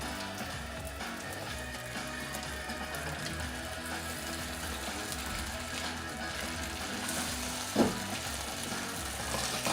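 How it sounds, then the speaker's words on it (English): Food sizzling in a frying pan for an American–Vietnamese fusion dish, with an even crackling hiss throughout and one short clink of a utensil partway through. "We have these frying."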